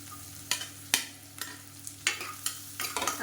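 Crushed garlic is stirred into a hot pan for millet khichdi, with a low steady sizzle broken by a series of sharp spoon scrapes and taps at an uneven rhythm, close and fairly quiet.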